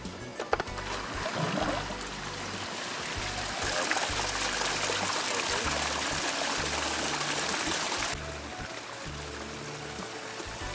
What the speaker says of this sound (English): let's get the water flowing